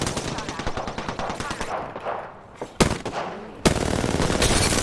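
Gunfire in Apex Legends, a rapid automatic burst at close range, a short lull, then two sharp single shots and another sustained volley, with a player talking over it.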